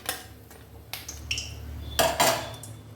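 Fried bottle gourd and lentil fritters are lifted onto a plate, producing a few distinct metallic clinks and scrapes of a utensil against the pan and plate, close and fairly quiet between the knocks.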